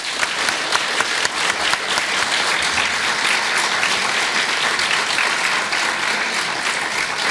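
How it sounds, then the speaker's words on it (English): Sustained audience applause at a League of Women Voters school district candidate forum, a dense, loud, even wash of clapping from a large crowd lasting throughout with no talk over it. "Please join me in a round of applause to thank the candidates."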